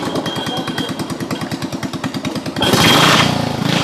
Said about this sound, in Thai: เรือบือสุดยอดเลย